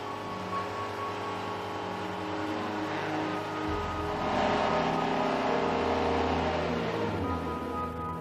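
A PSA Peugeot Citroën diesel engine climbs to a sustained 4000 rpm during forced particulate filter regeneration, a steady droning hum that shifts pitch partway and holds loud, with no talking.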